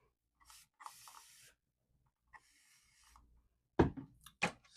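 Two bursts of hissing spray from a bottle come first, followed by a few sharp brushing strokes against hair, close up in a quiet room.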